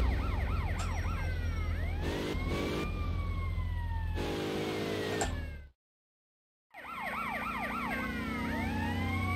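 Police siren in the video game GTA Liberty City Stories, rapid yelping and sweeping wails over a car engine, cutting out briefly before resuming, with no talk.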